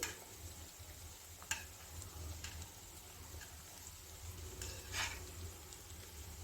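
Badusha sweets fry slowly in hot oil on a low-to-medium flame while being turned one by one. A steady, faint sizzle runs throughout, with a few soft ticks of the utensil.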